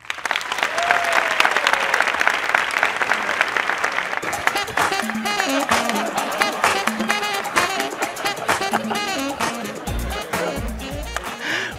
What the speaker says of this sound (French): Un tonnerre d'applaudissements pour Jamel Debbouze